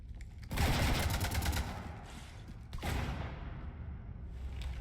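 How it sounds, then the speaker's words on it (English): Rapid gunfire bursts in the sci-fi shooter Mass Effect Legendary Edition, a loud sustained volley followed by a second burst, with mechanical clatter in between. "You want to stop shooting up my ship?"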